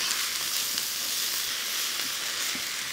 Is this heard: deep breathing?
no